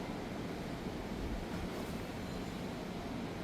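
Rough waves at Costa Maya on a very windy day, heard as a constant loud roar of surf and wind with no break and no talking.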